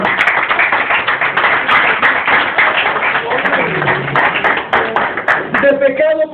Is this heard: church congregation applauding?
yes